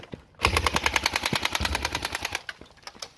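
An RPK light machine gun firing in a Russian-front war video game, one sustained burst of rapid, evenly spaced shots lasting about two seconds, then a couple of faint stray reports, no talk.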